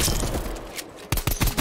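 Pistol gunfire in a first-person shooter game, a few sharp shots in quick succession near the end after a stretch of busy game noise, fairly loud and close.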